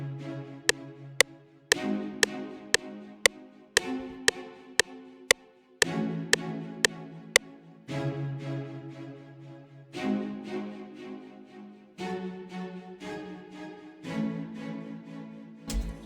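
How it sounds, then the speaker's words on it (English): BBC Orchestra string VST on a staccato preset plays short detached chord stabs in phrases of a few bars, over sharp metronome-like ticks in the opening measures, with no speech. "Next we got BBC Orchestra, which is bro, it's a very fire string VST"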